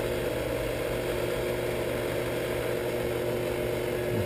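A Leeson 3/4 HP DC motor drives a Shopsmith 10ER at 3,000 RPM, giving a steady, loud hum with a faint vibration running through it. The tone holds even and unbroken from start to finish, and no one speaks.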